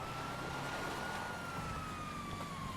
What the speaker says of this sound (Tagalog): May wangwang dito.